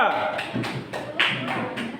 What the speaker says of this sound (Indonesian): Mantap, tepuk tangan untuk kelompok 2